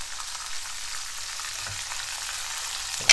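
Garlic scapes fry gently in a pan with a steady soft hiss throughout, ending in a short sharp clatter.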